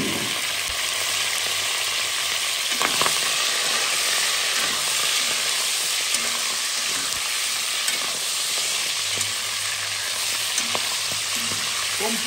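Sausages for a sausage curry fry in a pan with a steady, dense sizzle and hiss, loud and close, running unbroken throughout with no talking.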